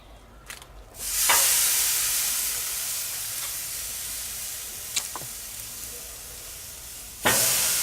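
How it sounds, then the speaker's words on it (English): Porterhouse steaks hit a hot grill with a sudden loud sizzle that settles into a steady hiss, a few sharp pops and clicks along the way, and a fresh burst near the end. "I'm gonna go ahead and cook me some nice porterhouses on the grill"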